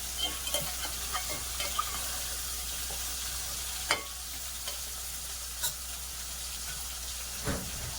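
Onions and fish sizzling in a pan for a mango fish curry, a steady close frying hiss with occasional faint clinks and stirring scrapes throughout.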